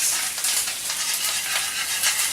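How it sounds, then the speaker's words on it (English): Food sizzles steadily in butter in a hot frying pan, a close, even hiss with no voices. "This is sizzling pretty good."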